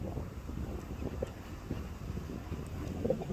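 Strong wind buffets a fishing boat out at sea, a steady broadband roar pressing on the microphone with low rumbling gusts throughout and no clear voices.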